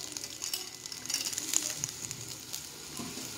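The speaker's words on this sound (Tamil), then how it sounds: "இப்போது எண்ணெயில் போட்டு நான் நல்லா வறுக்க போகிறேன்" Chillies fry in hot oil for mint chutney, a soft continuous sizzle with small crackles and occasional stirring, close but fairly quiet, with no voices.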